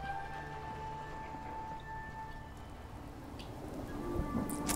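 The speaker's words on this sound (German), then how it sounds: "Ja, Regen halt, ne?" Rain falls steadily in the post-apocalyptic world of the game Fallout 4. It makes a soft, even hiss at a low level, with a faint tonal hum running underneath.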